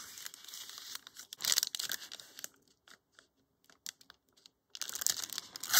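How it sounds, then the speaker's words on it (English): Music paper is torn by hand in close, crisp rips with crinkling, in two bursts separated by a quiet pause. "And now I'm gonna tear the rest like that."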